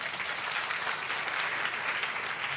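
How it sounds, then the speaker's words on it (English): Steady applause from an audience at an International Anti-Corruption Day event, greeting county assembly members asked to stand; dense, continuous clapping at an even level with no break. "Can you clap for them?"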